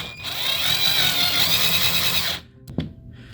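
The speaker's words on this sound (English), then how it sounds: "Now this one I'm going to use this drill." A cordless power drill whirs steadily and loudly for about two seconds while driving a screw to hang a small shelf, then cuts off abruptly, followed by a short clack and quiet handling noise.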